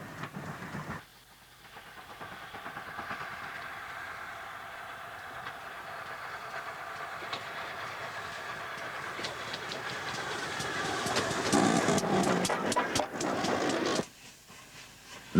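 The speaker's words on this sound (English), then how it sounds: "This class of 167 engines must rank amongst the most successful heavy freight locomotives ever built" A Great Western heavy freight steam locomotive runs past, building from a steady rumble to a louder rattling clatter of wheels and cars before cutting off abruptly.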